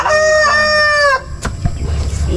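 A rooster crows once, loud and close, a long harmonic call followed by scattered clucks and rustling.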